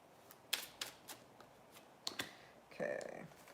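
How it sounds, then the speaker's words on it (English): Tarot cards being shuffled and laid down on a table, a run of quick, crisp paper snaps and flicks, close and fairly quiet, ending in a short riffling burst. "We're going to go ahead and start throwing cards down."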